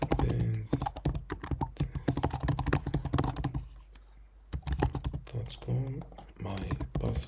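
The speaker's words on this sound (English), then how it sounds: "Let's type my email address," Fingers tap rapidly on a computer keyboard to type an email address, in quick irregular bursts of close clicks with a short pause partway through.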